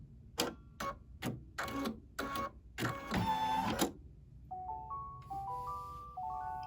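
An embroidery machine finishes stitching a gingerbread cookie design with several short rhythmic bursts of mechanical stitching, then a denser run, followed by a series of soft electronic beeps.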